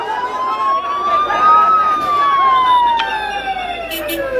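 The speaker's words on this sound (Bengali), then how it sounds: "ফায়ার সার্ভিসের অ্যাম্বুলেন্স ইতিমধ্যে এসে পৌঁছেছে।" A fire service ambulance siren wails loud and near in a long rising and falling tone, steady over several seconds with traffic rumble underneath.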